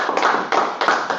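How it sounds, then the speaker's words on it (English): A small meetup audience gives a brief round of applause, close and moderately loud, a few uneven bursts of clapping lasting about a second. "Yeah, we definitely clap."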